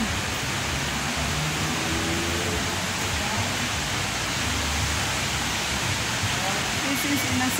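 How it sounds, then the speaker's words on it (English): Heavy rain pours down at a Singapore Indian clothing market, a dense, loud, unbroken hiss of water filling the whole stretch. "Oh my God, heavy rain."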